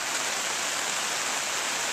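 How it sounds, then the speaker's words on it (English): Steady rain falling outdoors on a cool, showery Labor Day, a continuous dense hiss of drops that stays even and fairly close throughout, with no voices. "Now it's raining again."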